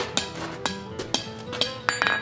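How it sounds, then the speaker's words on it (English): Hammer rolling a hot steel bar into an eye while forging a shepherd's crook, giving sharp metallic clinks about every half second with bright ringing tails, close and fairly loud, with no speech. "I'm gonna choke up on the hammer and I just wanna roll that around"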